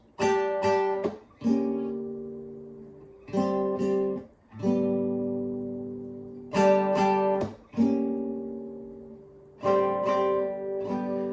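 An electric guitar plays a slow riff of sustained chords and picked notes, each ringing out before the next, with short gaps between phrases.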